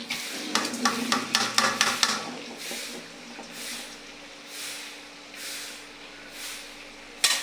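Chopped onion and green chili hit hot oil in a pan, a quick burst of clattering crackles and sizzling, then softer rhythmic swishes of stirring, close with no talking.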